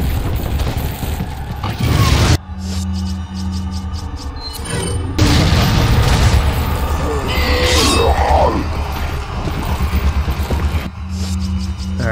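Heavy magnum gunshots from Resident Evil 4, several loud booming blasts with sharp crashing impacts amid game music and effects, no talking.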